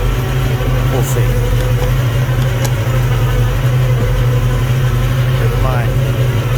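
Engine of a 1966 Ford Mustang idling: a steady, close, deep rumble with an even low throb that holds throughout without revving.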